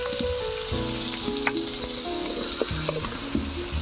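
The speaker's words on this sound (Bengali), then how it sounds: "আমটাকে তেলের মধ্যে একটু ভেজে নেব" Mango pieces with turmeric frying in hot oil, a steady busy sizzle with occasional spatula scrapes and light clinks, close and continuous with no talking.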